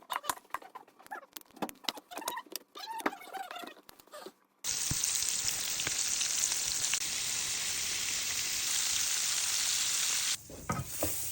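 After a few seconds of scattered clattering and knocking, chicken drops into hot oil and fries with a loud, dense, crackling sizzle that holds steady for several seconds before ending abruptly.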